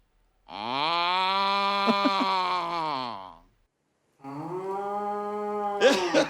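A water buffalo lets out two long, loud, close moos, one after another with a brief pause between them, and a short voice is heard at the end of the second moo.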